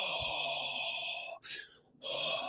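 A voice imitates the forceful breathing of Shotokan karate movements with one sharp, hissing exhale, set against a steady tonal background hum.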